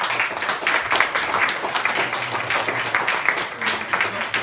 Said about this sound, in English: I think you guys should give yourself a big round of applause today.